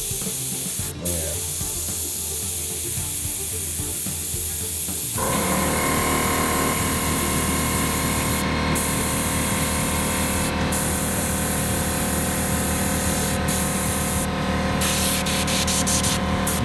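An airbrush sprays paint highlights onto a leather strap in a pirate-themed mural on a 1978 Chevy van, a steady close hiss that grows fuller and louder partway through and runs continuously.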